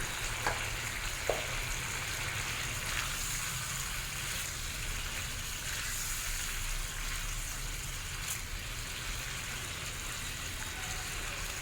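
Chicken with garlic and butter bubbles over a high flame in a pan, a soft, continuous low sizzle and simmer heard close but fairly quiet, with a couple of faint clinks near the start and no talking.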